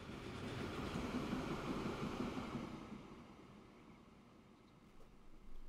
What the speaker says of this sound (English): Oh look, it's a train.